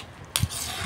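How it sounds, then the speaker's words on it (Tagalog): A sardine noodle dish (pansit, loming sardinas) stirred in a pan, with a brief scrape and clink of a utensil against the pan over a soft background. "Mix natin para mag-blend yung ating timpla."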